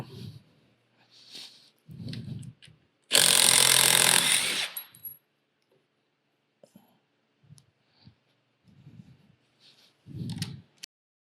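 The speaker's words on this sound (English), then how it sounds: "grab an impact driver with a 10 millimeter socket" A cordless impact driver fitted with a 10 mm socket backs lag bolts out of the bottom of a shipping crate. It gives one loud rattling burst of about two seconds, with scattered clicks and handling noises and someone talking before and after.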